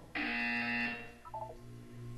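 A loud electronic buzzer from the video game Portal 2 sounds once as a steady tone lasting under a second, followed by a few quieter short beeps.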